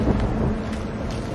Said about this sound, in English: Belfry wasn't kidding about this storm.